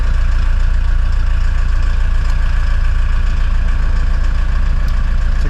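A 1985 VW Golf MK2 diesel engine idles close by, a loud, steady low rumble with an even rapid diesel clatter and no voices.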